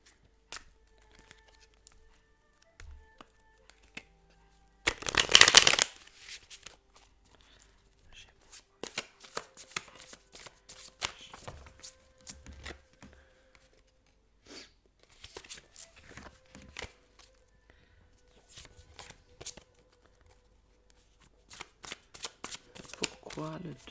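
Tarot cards are shuffled up close with one loud, crisp riffle, followed by scattered soft flicks and taps of the cards in a quiet room, with a voice speaking at times.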